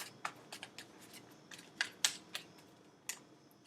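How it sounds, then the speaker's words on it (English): Tarot cards being shuffled by hand, a faint series of quick, crisp papery snaps and flicks, about a dozen irregular clicks close to the microphone in an otherwise quiet room. "Last shuffle."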